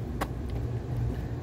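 A 1984 Mercedes 300TD wagon on the move, giving a steady low engine and road rumble that holds evenly throughout, with a brief higher hiss early on.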